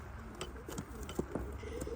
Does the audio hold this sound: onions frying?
no